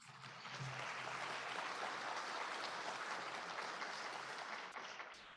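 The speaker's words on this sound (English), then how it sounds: "Let's give them a round of applause." A room full of people applauds sponsors at a leadership presentation, steady broadband clapping holding for about five seconds before thinning slightly at the end, with a brief low voice near the start.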